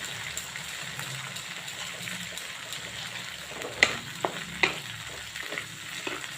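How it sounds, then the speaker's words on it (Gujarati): Tomato gravy with cream added, bubbling in a pan for tava paneer while a spoon stirs it, a gentle sizzle with a few sharper scrapes and taps, close by and without speech. "ગ્રેવી આપણી ટામેટાની મૂકી છે ગરમ હવે આપણે મલાઈ નાખીએ છીએ"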